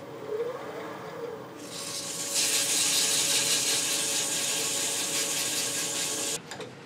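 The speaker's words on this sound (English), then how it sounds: "do a little sanding" Steady, close abrasive rubbing of sandpaper on a wood salt shaker on a lathe, a continuous hiss that swells in and then stops abruptly near the end.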